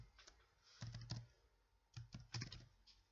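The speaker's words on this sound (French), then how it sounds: "Donc je tape vite mon email." An email address being typed on a computer keyboard: quick bursts of soft key clicks close by, fairly quiet, with short pauses between groups of strokes and no talk.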